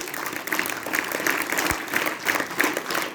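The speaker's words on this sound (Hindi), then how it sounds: "अपने लिए ताली बजा दीजिए" A seated audience at a career counselling session applauds itself, a moderate, steady patter of many hands clapping with slight rhythmic swells, heard at a middling distance without talk over it.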